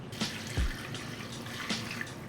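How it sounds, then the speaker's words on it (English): Chicken broth is poured from a pot through a mesh strainer, a soft steady trickle and splash at low level with a couple of brief bumps, no talking. "I'll just strain it right into there."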